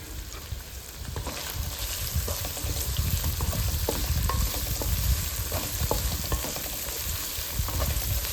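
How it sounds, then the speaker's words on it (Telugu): Boiled mutton pieces fry with chili powder in a pan, giving a loud, continuous sizzle with occasional stirring scrapes and no talking. "మటన్ పీస్ కూడా బాగా ఫ్రై అయ్యేదాకా మనం ఫ్రై చేసుకుందాం"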